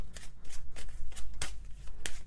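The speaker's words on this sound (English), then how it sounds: "Let's get some oracle cards out here" Oracle cards are shuffled by hand nearby, a quick run of soft rhythmic riffling flicks and slaps repeating steadily with no speech.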